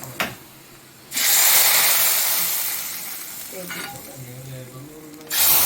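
Sliced onions roasting in a pan for a dried fish curry: a loud steady sizzle and hiss that swells, eases off, then surges again as the pan is stirred.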